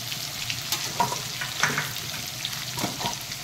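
Potatoes with turmeric sizzle and crackle in a hot pan while a Bengali fish and cauliflower curry is cooked, a steady close frying hiss with occasional stirring scrapes and no talking.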